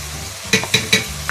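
Ginger and garlic paste frying in a pan as it is stirred, giving three short scraping, sizzling strokes in quick succession over a quiet background hiss.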